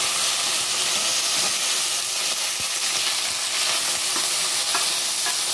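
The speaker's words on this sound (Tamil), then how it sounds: "அதுக்கப்புறம் நம்ம அரைச்சி வச்ச வெங்காயத்தை போட்டுக்கலாம்." Ground onion paste fries in hot oil in a pan for a South Indian ennai kai curry. It gives a loud, steady, close sizzle and hiss with faint stirring scrapes, and no talk.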